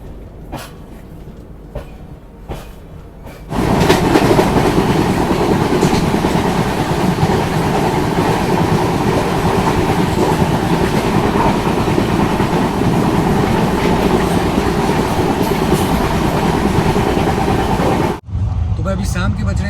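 Madgaon Rajdhani Express running, heard from inside a 3rd AC coach: after a quieter start, a loud, steady rumble and clatter of wheels on rail sets in and holds, with a brief dip near the end.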